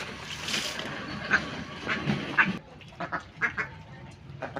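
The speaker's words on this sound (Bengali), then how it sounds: "হাঁসগুলো আমাকে ভয় পেয়ে গাছ নিচে চলে গেছে।" Several ducks quack in short, separate bursts, fairly close and moderately loud over faint outdoor background noise while they are being fed outdoors.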